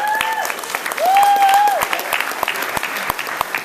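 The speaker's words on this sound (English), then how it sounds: "Give them a round of applause." A crowd claps in loud, dense applause while a high tonal sound slides and holds in the background.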